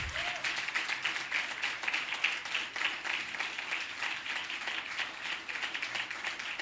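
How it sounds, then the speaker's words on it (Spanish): A church congregation claps in sustained, even applause at moderate volume that carries on steadily without pause, with a few voices faintly mixed in. "Dele fuerte el aplauso, Él se lo merece."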